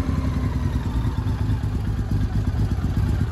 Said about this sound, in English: I'm gonna rev this one again here because I just love the way it sounds